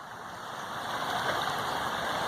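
Creek water flowing steadily along a woodland trail, a continuous soft rushing and gurgling that grows slightly louder, with no voices.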